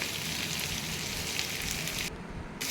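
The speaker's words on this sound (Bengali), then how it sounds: "ভাজা একটু ভাজছি আলুগুলিকে" Potatoes sizzle steadily in a hot wok with panch phoron and ginger, a dense, continuous close frying hiss that barely dips near the end.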